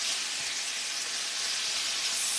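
Udon stir fry browning in a hot pan sizzles and hisses steadily and closely, a continuous bright frying sound with no talking.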